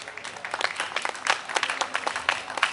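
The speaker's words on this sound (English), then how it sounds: "Ladies and gentlemen, let's give him a round of applause." An audience at a Fourth of July picnic claps in a short round of applause for a prosecuting attorney, the scattered hand claps fairly soft and steady.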